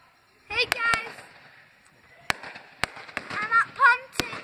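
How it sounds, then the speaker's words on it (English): Fireworks go off at Pontins holiday park as several sharp, loud, separate bangs spaced unevenly, with a person talking in the gaps between the blasts. "it's really loud because there's some Pontins fireworks going off."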